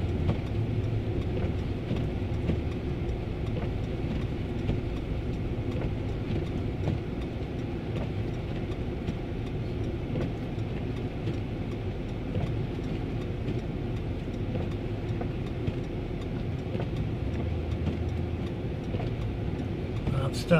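A rear-wheel drive car's wheels spin in deep snow during a Minnesota spring blizzard, giving a steady, loud engine and tire drone that holds through the whole stretch without break.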